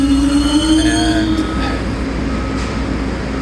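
A New York City subway train rumbles loudly at close range in Rector St IRT station, with a high squeal and tonal whine from the wheels and motors fading out; a brief word spoken.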